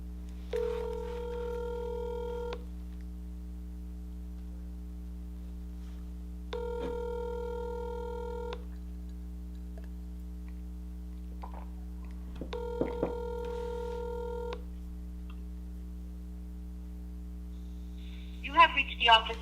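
A telephone call rings out, with three evenly spaced ringback tones over a low steady hum, then a recorded voice begins to answer.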